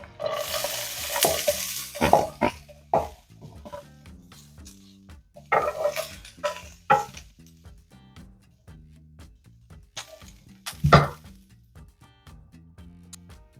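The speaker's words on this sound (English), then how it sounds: "in our skillet, we are going to add a little bit of avocado oil. Now add in our veggies." Mixed vegetables fry in avocado oil in a skillet, with a constant sizzle broken by several loud bursts of stirring and scraping spread across the clip.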